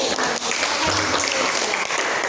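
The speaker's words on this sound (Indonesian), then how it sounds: "Kasih tepuk tangan." Schoolchildren in a junior high classroom clap together during a religious studies lesson, a brief burst of dense, close applause that stays loud and steady and has no talk over it.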